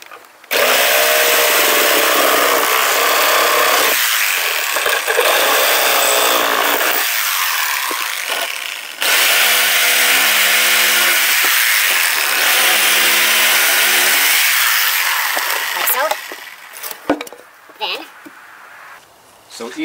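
Reciprocating saw cutting through wooden pallet boards, a loud, harsh buzzing rasp running in long sustained stretches with brief pauses between cuts, close up and dominant.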